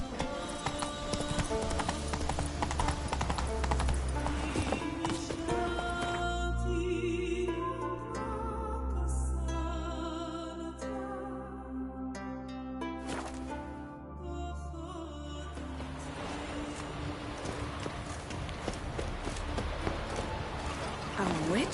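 Roach the horse from The Witcher 3 trotting, rhythmic hoof clip-clops running steadily beneath a swelling orchestral score, with voices speaking at points.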